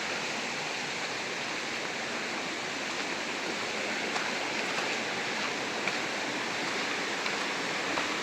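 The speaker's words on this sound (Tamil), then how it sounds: "அந்த இயற்கையான தண்ணி சத்தமே எவ்வளோ அழகாக இருக்குது" A natural stream runs among big trees with a steady, even rush of water that stays constant throughout, with no voices or other sounds over it.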